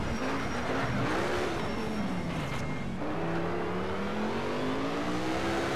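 A race car engine in Need for Speed Shift screams through the gears, a steady close roar that rises and dips as it shifts and revs, with no talking.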